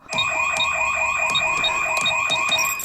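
A home alarm system beeps in a rapid repeating pattern, loud and shrill, sounding continuously with no voices.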